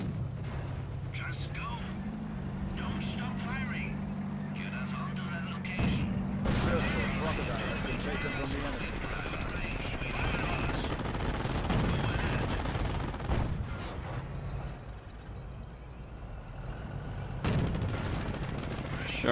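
Dense gunfire rattles through a Company of Heroes battle set during Operation Market Garden around Valkenswaard, with rapid machine-gun bursts and heavy booms layered into a loud, continuous wall of combat noise.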